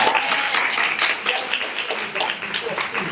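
A round of applause from an audience at a health talk, steady clapping throughout with voices mixed in.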